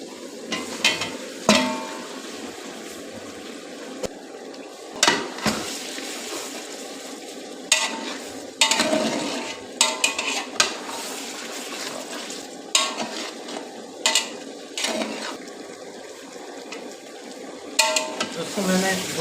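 Chicken with salt being stirred and roasted in a pot over a low flame for a Hyderabadi yakhni pulao, giving a soft steady sizzle broken by repeated scraping and clinks of a spoon against the pot, with brief talk between stirs.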